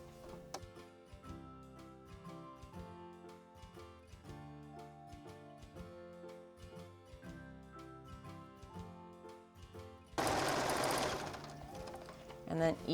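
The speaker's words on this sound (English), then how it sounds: "I'm going to sew straight down over this seam and down to the end" A sewing machine stitches straight down a seam of a fabric project bag, its needle ticking in a quick, even rhythm close up, followed by a brief louder burst of rustling handling near the end.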